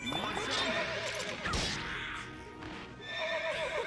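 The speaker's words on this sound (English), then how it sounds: "There you go, horse noises." Horses neigh and whinny repeatedly in a Fire Emblem Awakening battle, the loud, wavering calls rising and falling over game sounds with brief crashes between them and no talking.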